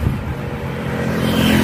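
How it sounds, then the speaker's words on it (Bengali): Road traffic passes near an outdoor microphone on a village road in Joypur, Bankura, a loud steady engine drone that swells slightly toward the end with no speech. "আউটডোর শ্যুটে যে দেখতে পাচ্ছ সব গাড়ির নয়েজ কিন্তু ধরছে মাইকে"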